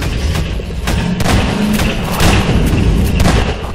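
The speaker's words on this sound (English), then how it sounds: "Goddamn grenade" Grenade blast and gunfire in the Half-Life 2 co-op Synergy mod, a run of loud thudding booms and sharp cracks over steady battle noise.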